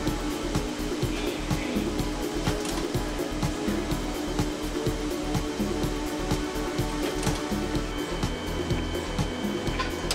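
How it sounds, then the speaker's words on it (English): A cable assembly machine molding a waterproof IP67 plug directly onto a cable, a steady loud mechanical whir with a dense, rapid pulsing throb throughout, continuous and close with no voices. "This machine molds a plug directly to a cable, ensuring an IP67 rated waterproof connection."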